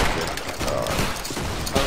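A line of soldiers fires a musket volley in the Battle Grounds III linebattle game, a dense crackling burst of many shots blending into a continuous roar across the whole moment.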